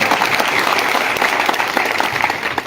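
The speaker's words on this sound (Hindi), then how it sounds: "दलजिंदर सैनी जी के लिए ताली बजाओ ना" Crowd at a public rally in Kasauli, Himachal, breaking into applause, a dense steady patter of many hands clapping close and loud for a few seconds.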